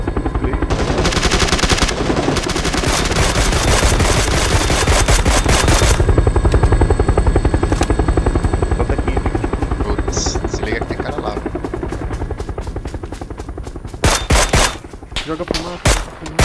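Helicopter rotor thrums loud and close in PUBG, with bursts of automatic gunfire rattling over it and a few sharp shots near the end as the rotor noise drops away.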